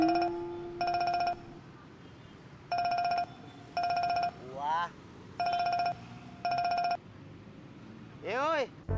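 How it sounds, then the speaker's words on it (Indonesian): A mobile phone ringtone rings in repeated bursts of bright electronic tones, with short melodic chirps between them, loud and close over faint background room noise. "Handphone lo tuh bunyi."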